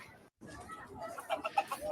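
Chickens clucking outdoors by a food truck on Maui, faint short clucks and calls growing busier toward the end, mixed with background chatter.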